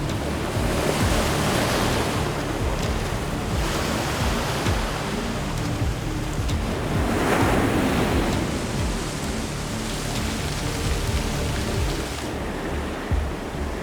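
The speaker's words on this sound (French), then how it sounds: "le coup de vent lié à la queue de tempête tropicale" Strong wind from the tail of a tropical storm roars steadily and loudly, a dense broadband rush that surges and eases over about fourteen seconds, with no voices.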